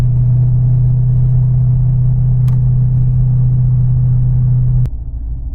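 A Ford Mustang exhaust at light throttle climbing a hill, a loud steady low drone heard from inside the car, which drops suddenly near the end.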